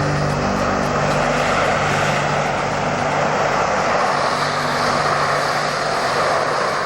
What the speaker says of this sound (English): Once the Harrier is in hover mode, the wings provide no lift.